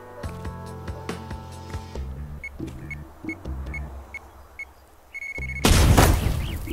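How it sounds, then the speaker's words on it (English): A loud cartoonish explosion from the artillery video game Worms, played as a fort match online, bursts in near the end, following game music and beeps. "look at the size of that explosion!"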